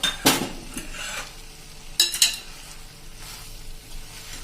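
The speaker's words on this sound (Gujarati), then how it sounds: "અને હવે આ બધું આપણે હલાવી લેશું મિત્રો." Black chickpea curry topped with coriander leaves being stirred in a pan, with scraping spoon strokes, a few sharp metallic clinks and a soft steady sizzle, heard close and alone.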